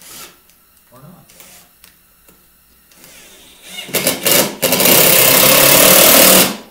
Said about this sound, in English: This is a little impact drill. It's making a little bit more noise than what I was hoping.